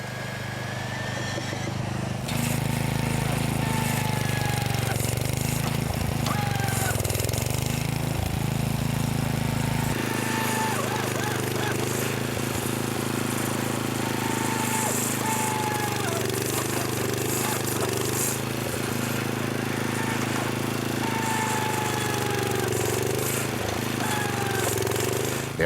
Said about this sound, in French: Perçage, tirefonnage et clissage.